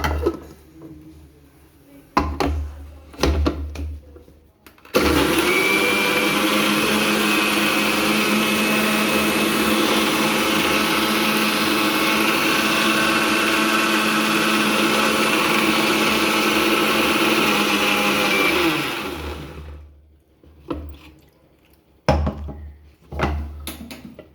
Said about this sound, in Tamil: சர்க்கரை போட்டு இன்னொரு தாட்டி அரைச்சிக்கோ.